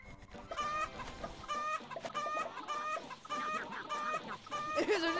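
Chickens in the Roblox egg farm simulator game cluck in quick repeated bursts, a steady rhythmic flurry of clucks close up and alone.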